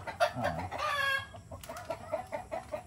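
Chickens cluck close by on a farm near a planting box, with a run of short, rhythmic clucks and a longer drawn-out call between them.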